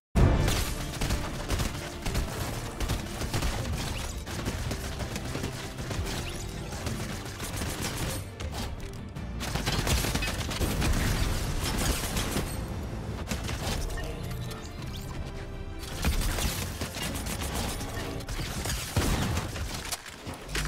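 Suppressed SMG fire in Fortnite, a near-continuous stream of dense, muffled automatic bursts over game sound, with short breaks between volleys and no talk.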